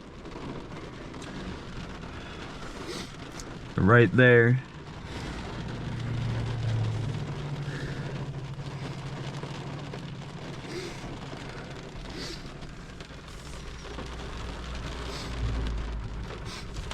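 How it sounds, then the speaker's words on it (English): Heavy rain sweeps in during a storm chase in northwestern Ohio, a steady broadband hiss of downpour with a low rumble beneath, interrupted once by a short burst of nearby talk. "Here comes the heavy rain."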